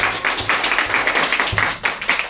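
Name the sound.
children clapping for themselves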